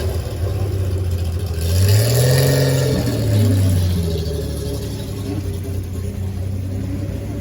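A 1952 Mercedes-Benz 300 SL W194 racing car at a concours display, its engine rising in a revving sweep, passing close by, then fading to a low rumble; some background voices.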